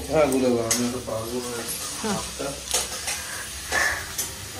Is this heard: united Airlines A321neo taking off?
no